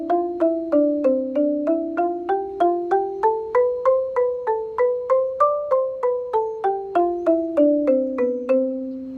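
Marimba playing a short octave exercise, a run of about twenty evenly spaced struck notes climbing and falling in pitch, ringing clearly with no talk.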